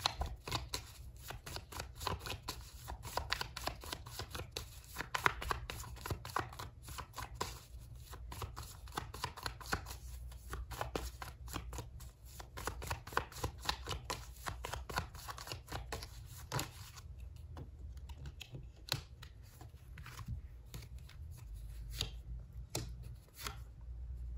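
Flowers of Love tarot cards are shuffled by hand in a long, steady run of rapid, close riffling clicks that pause briefly near the end, quiet and without any talking.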